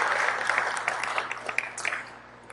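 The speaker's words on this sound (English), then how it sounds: "Please, a round of applause for our special guest today." Audience applause for Mayor Edwin M. Lee at a welcome event for America's Cup competitors, dense clapping that starts full and gradually thins into scattered claps before fading.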